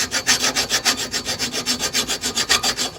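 A hand file works a welded FL350 motorcycle frame during repair, rasping in quick, even back-and-forth strokes, about five per second, close and loud with no talking.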